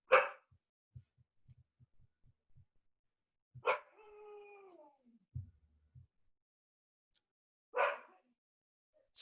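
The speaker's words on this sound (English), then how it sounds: "Sorry, my dogs." Household dogs give a few sharp, separate barks a few seconds apart, with a drawn-out whine or whimper between them, nearby and otherwise quiet.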